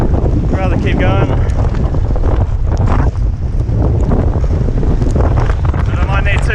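Solid 30-knot wind buffets the microphone aboard a small Mini Transat racing sailboat, with loud continuous rushing gusts and water noise while someone talks over it.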